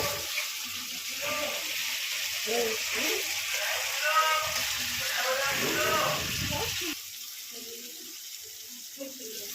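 Water is poured into spice masala frying in oil for an egg dish, a steady rushing pour over hissing sizzle that drops off toward the end, with someone talking over it.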